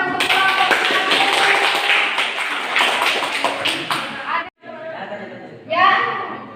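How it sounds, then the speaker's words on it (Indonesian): Students in a physics classroom give a group a round of applause. Close, dense clapping fills the first four seconds, then it breaks off and fades into scattered claps with some chatter. "tepuk tangan untuk kelompok"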